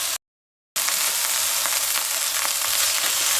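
Hamburger patties frying in a pan, a loud, steady crackling sizzle that drops out briefly at the start, then continues unbroken.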